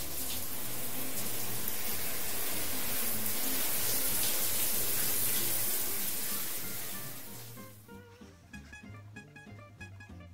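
Water running hard from a tap to wash paint away, a loud steady splashing rush for several seconds that then cuts off, leaving quiet drips and trickles.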